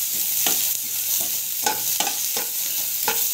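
Spices temper steadily in hot oil for a water chutney, with a constant hiss and occasional soft stirring scrapes against the pan.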